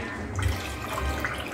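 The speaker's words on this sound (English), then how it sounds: "I'm going to add in like 2 cups of water" Water pours steadily into a pot of slow-cooked lamb chops on a low burner, a soft continuous splashing stream heard up close with no talking.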